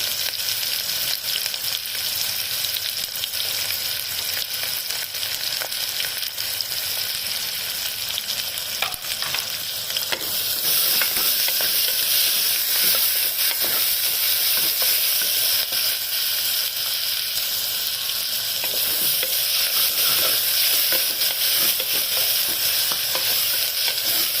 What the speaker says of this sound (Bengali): এবারে কুচনো পেঁয়াজগুলো দিয়ে দিচ্ছি।